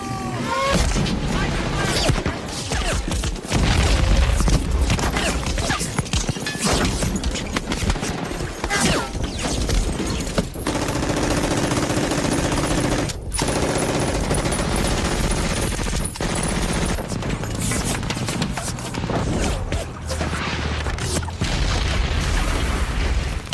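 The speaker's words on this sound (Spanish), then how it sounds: "Vemos los fogonazos de las ametralladoras que están lejos y después escuchamos el sonido" Distant machine gun fire in the Omaha Beach landing battle of Saving Private Ryan: dense, continuous rattling bursts and booming impacts in a thick, loud wartime soundscape that runs throughout.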